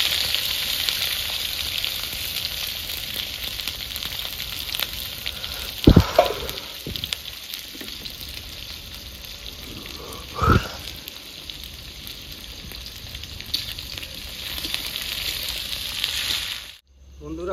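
Chopped onion with dried red chillies and whole cumin sizzling in hot oil in a pan for a fish curry with red lentils, a steady close frying hiss with a couple of brief stirring clatters.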